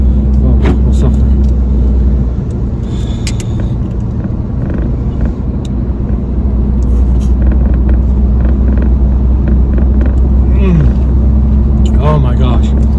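A loud, steady road rumble fills the cabin of a car driving along in the sun, with engine drone and tire noise throughout and people talking over it.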